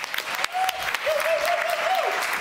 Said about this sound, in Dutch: Geef een warm applaus, Sylvana Simons.